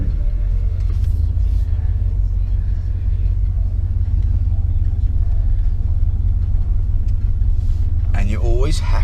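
Classic V8 Ford F150 5.0 pickup truck driving, its deep engine rumble loud and steady throughout from inside the cab, with someone talking over it and a brief higher tone near the end.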